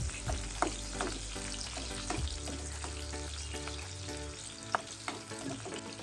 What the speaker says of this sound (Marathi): तर लसण आहे ना आपण चांगली गरम करून घेऊया.